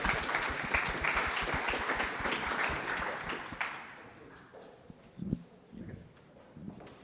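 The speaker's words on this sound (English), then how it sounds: "How about a round of applause for Editor-in-Chief?" An audience applauds the editor-in-chief at a live media event, a dense burst of clapping that gradually thins and fades out over several seconds, followed by scattered claps and a few faint noises in a quieter room.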